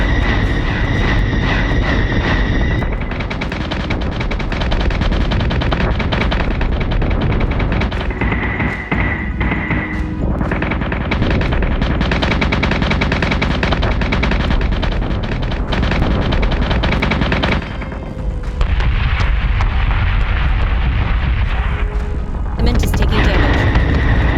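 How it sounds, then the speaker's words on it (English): Missiles launch and explode in the Battlestar Galactica Deadlock space combat game, with a continuous loud roar of engines and blasts and occasional high tones cutting through the dense barrage. "Squadron is taking fire. Missiles incoming!"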